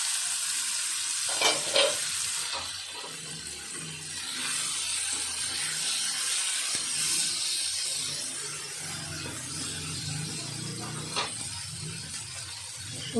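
Raw tomato curry with turmeric stirred in a hot pan, continuous sizzling and frying hiss with spatula scrapes and occasional louder stirring bursts, close and steady, no talking.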